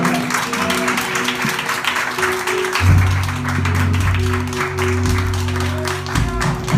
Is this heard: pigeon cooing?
no